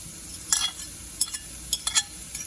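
Minced mushroom stems are stirred into cooked sausage in a pan: a soft background sizzle broken by several short scraping clicks of a utensil against the pan, close, with no talking.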